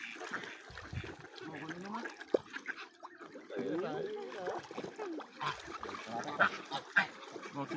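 Geese honking nearby in scattered bursts, mixed with splashing water and a person talking intermittently.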